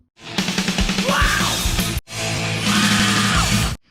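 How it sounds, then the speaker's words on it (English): High-pitched screamed metal vocal in a song, two loud sustained yells each lasting under two seconds with a short break between, sung over distorted band accompaniment. "the vocals kick in with a high-pitched scream"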